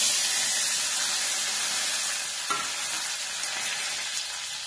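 Chana dal, urad dal and curry leaves sizzle in hot oil, a constant loud frying hiss with faint stirring taps and no speech.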